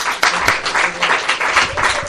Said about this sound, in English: I would like to give her another round of applause